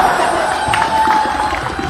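A large audience at a Hindi poetry recital claps and cheers in a dense, steady wash of applause, fairly loud and without a break.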